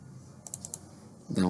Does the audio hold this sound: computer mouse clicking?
yes